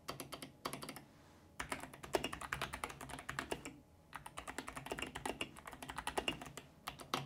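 Typing on a Machenike K600 clicky mechanical keyboard produces a quick, dense run of sharp key clicks, close and quiet. It stops briefly twice before going on at a steady pace, with no one talking.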